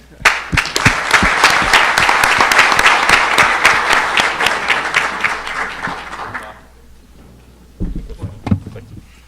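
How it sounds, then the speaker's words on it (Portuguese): An audience at an event applauds for several seconds, steady dense clapping that fades out, followed by a few scattered claps and some handling noise. "uma salva de palmas aqui"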